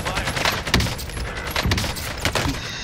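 Rapid bursts of gunfire from a battle royale video game crackle through a busy mix, several sharp shot transients spaced across the stretch amid continuous game noise, with faint voice chat underneath.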